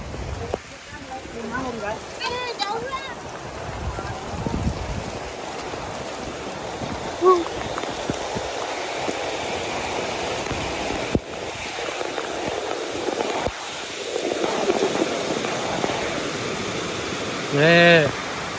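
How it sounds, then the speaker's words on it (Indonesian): Heavy rain pours down steadily at night during a road trip through Sumatra, a dense continuous hiss with a few louder bursts and brief sounds over it. "Tiba-tiba hujan deras sih."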